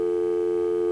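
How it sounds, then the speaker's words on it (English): A telephone dial tone holds as one steady, unbroken electronic hum, clean and moderately loud, with nothing else over it. "I hear a nice dial tone"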